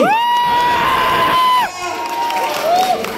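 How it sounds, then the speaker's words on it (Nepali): An audience at a dance competition cheers for a second-place finisher: a loud, shrill, sustained whoop rings out over the crowd noise, then drops away to a lower cheer with another brief whoop near the end. "जेसिका कुस्लेको लागि ताली"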